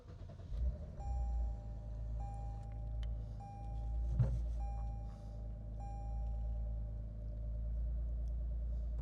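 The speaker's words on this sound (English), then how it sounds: "actually let's start the car." A 2024-2025 Lexus IS350 F Sport is started, with a low steady engine rumble holding throughout and a series of soft electronic chimes sounding over it, all heard from inside the cabin.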